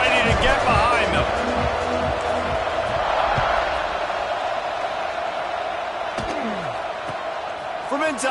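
A stadium crowd roars at a South Carolina versus Clemson college football kickoff, a broad, sustained wash of noise with a few sharp thuds. A commentator talks over it.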